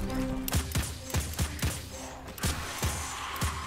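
Sharp, punchy shots from a pulse-rifle-like weapon in Destiny 2, about ten close, loud reports fired in quick pairs and short bursts, each with a deep thump, and no talking.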